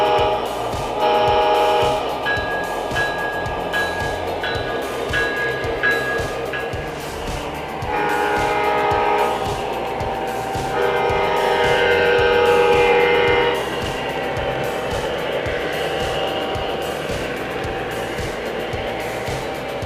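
MTH Premier SD60E model diesel locomotive sounds: a steady engine rumble with a horn sounding in bursts and a ringing bell, continuous and fairly close.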